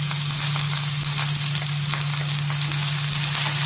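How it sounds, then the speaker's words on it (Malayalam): Chopped ginger and finely cut green chillies sizzling in hot oil, a loud continuous frying hiss with a steady hum underneath, no voices. "ചൂടായ എണ്ണയിലേക്ക് ഇഞ്ചി കുരുകുര അരിഞ്ഞതും പച്ചമുളക് ചെറുതായി അരിഞ്ഞ് വെച്ച് കൊടുക്കാം."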